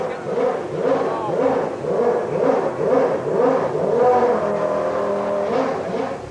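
Formula One car engine revving on a race circuit, rising and falling in repeated pitch sweeps as the car works through gears, loud and steady throughout.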